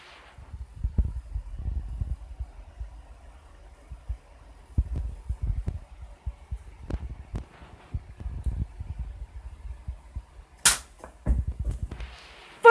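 A Nerf toy gun firing indoors: a single sharp pop near the end stands out above scattered soft low thumps and handling knocks, with no talking.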